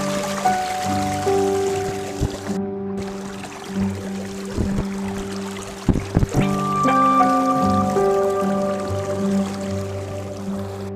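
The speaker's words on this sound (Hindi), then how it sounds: "ट्यूबवेल चला के आ गया हूँ, पानी भी पहुँच चुका है" Water from a running tubewell flows across a grass field, a steady trickling and streaming wash up close, with tonal hum lines from the pump or motor running beneath it and a few soft splashy bumps.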